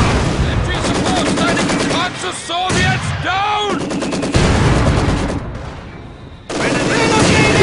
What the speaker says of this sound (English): He's just spamming machine guns.